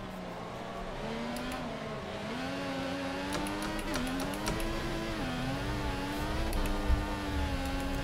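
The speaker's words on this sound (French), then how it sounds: "je risque d'abîmer un peu le moteur parce que je vais la faire gueuler" An F1 car engine in the racing game F1 2014 screams at high revs, its pitch climbing and dipping through gear changes in a loud, sustained whine with no talk over it.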